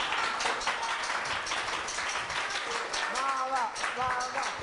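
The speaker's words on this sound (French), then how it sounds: "Merci à Maman Isha qu'on va applaudir quand même" Audience applause at a Togolese television event, dense clapping across the whole span, with voices and sung or shouted tones rising over it toward the end.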